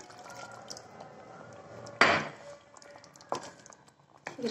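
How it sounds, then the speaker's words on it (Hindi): Water is poured into a pan of malai matar paneer gravy, with a soft liquid splash and clatter near the middle, followed by quieter cookware sounds and a faint hiss. "पानी डाल दें"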